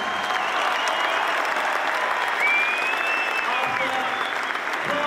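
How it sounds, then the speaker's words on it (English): Arena crowd at a boxing event in Newcastle applauds two boxers after a twelve-round fight, a dense sustained clapping wash with cheers and scattered whistles mixed in. "a round of applause for two boxers who gave everything"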